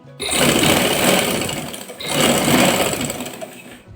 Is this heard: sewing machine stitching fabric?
yes